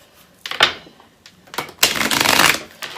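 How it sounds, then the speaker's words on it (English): A deck of tarot cards is shuffled up close, with short riffling bursts and a longer flurry of rapid card flutter in the middle, no voices. "I'm going to shuffle these and see what else comes through"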